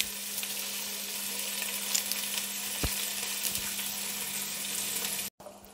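Green chilies and curry leaves fry in hot oil, a soft steady sizzle with faint crackles and pops running evenly throughout, then breaking off briefly near the end.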